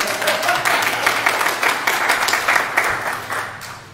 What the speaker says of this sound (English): It's okay to applaud.